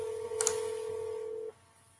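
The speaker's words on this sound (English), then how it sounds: "Let me see if I can get him on the phone again." A steady telephone tone sounds for about a second and a half while a call is being placed, with a brief burst of keypad beeps near the start, then cuts off to faint background.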